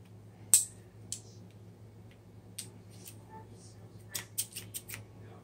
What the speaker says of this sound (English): Amazing pair of scissors,